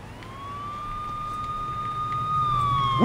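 A police siren in the video game Saints Row wails in a long steady tone, rising slightly toward the end, over a low engine rumble.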